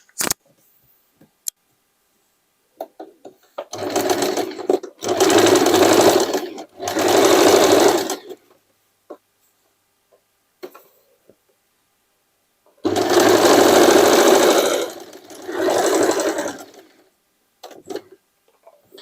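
Sewing machine stitching patches onto upcycled drop-crotch jeans, running in several separate bursts of a few seconds each with quiet pauses and small clicks between, close and fairly loud.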